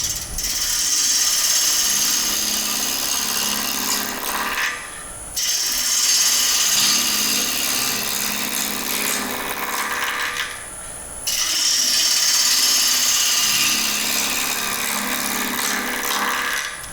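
A woodturning lathe gouge with a swept-back grind rough-cuts a square-edged wooden bowl, giving a loud, continuous scraping hiss in three long passes separated by brief pauses, with no talk.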